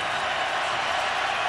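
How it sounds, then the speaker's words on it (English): A football stadium crowd at a college game roars steadily in a dense, even wash of cheering with no break, loud and continuous. "Crowd comes to life."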